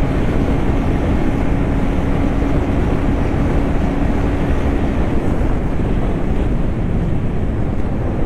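KTM Duke 250 Gen 3 motorcycle ridden fast on the road, with heavy roaring wind buffeting the microphone nonstop and largely masking the engine.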